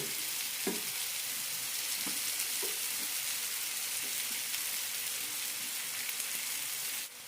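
Colocasia (taro) masala roasting and frying in a pan, a steady broadband sizzle throughout with a few soft stirring clicks and scrapes, close and even, no talking.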